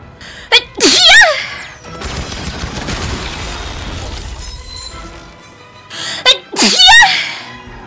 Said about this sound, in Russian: Ой, сейчас чихну.